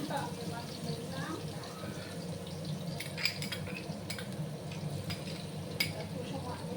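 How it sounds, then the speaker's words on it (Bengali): Crushed garlic fries in a pan for a spiced kundri (ivy gourd) dish, giving a soft steady sizzle under a speaking voice, with a few clinks of a utensil against the pan. "একটু সময় আমি রসুনগুলোকে ভাজবো।"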